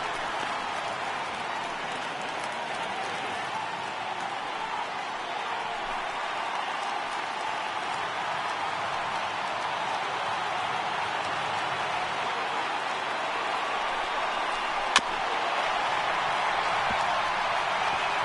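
A baseball stadium crowd of over 39,000 cheers on its feet, a steady distant roar of many voices sustained throughout, with a single sharp crack near the end.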